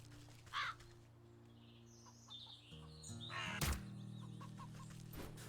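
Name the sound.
crow cawing in the video game Wytchwood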